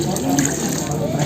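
Water mixed with bidara leaves is poured to rinse a body during a funeral washing, a continuous close splashing pour with a voice faintly mixed in.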